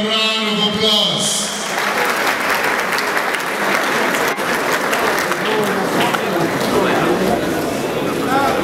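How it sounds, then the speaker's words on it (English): Loud crowd applause at a TSTV decoder launch event in Abuja, a voice speaking at first, then sustained dense clapping with cheers filling the rest. "Can we give TSTV another round of applause?"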